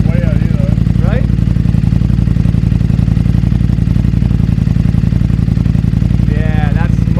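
A 2020 Ducati Streetfighter fitted with a full Akrapovic exhaust idles close by, giving a steady, deep, throaty pulsing rumble throughout, with brief voices talking over it near the start and end.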